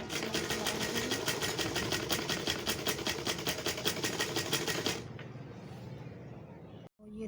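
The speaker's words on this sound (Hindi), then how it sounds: "मैं इसके ऊपर सिलाई चला रही हूँ।" A sewing machine stitches fabric for a trouser and sleeve design in a fast, steady, evenly pulsing run for about five seconds, then stops, leaving only faint room noise.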